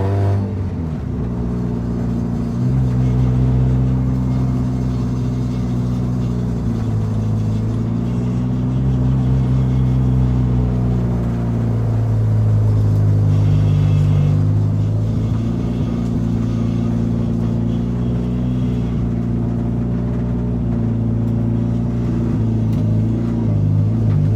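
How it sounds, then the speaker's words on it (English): A loud, rough Eclipse car engine with no muffler rumbles steadily up close, revving slightly at times, with a raw, unmuffled growl throughout. "she doesn't have a muffler back there, so it's kind of a little loud."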